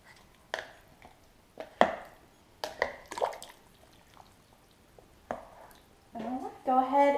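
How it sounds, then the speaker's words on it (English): Vegetable beef soup is stirred in a slow cooker with a spoon, giving soft wet sloshes and scattered clunks against the pot, faint and close, with a louder liquid swirl near the end. "I'm just going to stir everything up."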